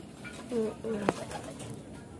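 Racing pigeon cooing close by, two or three soft gliding coos followed by a brief sharp tap, over a quiet background.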